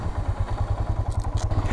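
Motorcycle, one prone to stalling, rolling onto a long suspension bridge in Nepal: a steady low engine throb with rhythmic pulsing, plus light clattering and thuds from the deck, close and continuous with no talk.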